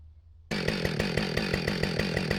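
A chainsaw with a new chain roars to life after a brief quiet moment, then runs loud and close with a steady, pulsing engine rhythm.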